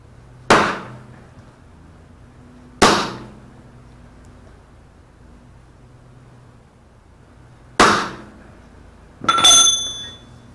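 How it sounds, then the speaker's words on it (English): A dead blow hammer strikes the metal cab of a 1941 Dodge Army truck, four sharp separate blows at uneven intervals, the last with a ringing metallic clang, against quiet background. "Actually, I'll just use my dead blow hammer."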